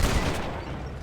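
Gunfire in the Red Dead Redemption video game, a dense burst of overlapping shots lasting about a second with a loud attack that tails off into a rumbling wash.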